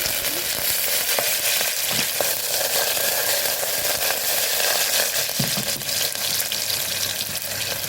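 Green chilies, ginger and curry leaves fry in hot oil with a loud, dense crackling sizzle, close up and continuous, sharp pops and spatters scattered through it, no voices.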